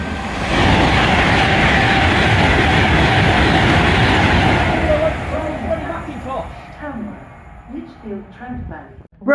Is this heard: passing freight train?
yes